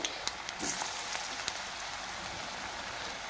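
Drumstick flower fritters fry in plenty of hot oil with a soft, steady sizzle and scattered crackling pops. The sound is quiet and close, with no voices over it.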